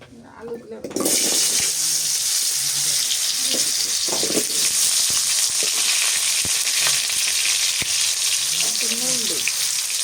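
Potatoes dropped into hot oil in a home kitchen, starting with a few clatters and then a loud, steady sizzle that continues unbroken to the end, with a voice speaking faintly underneath.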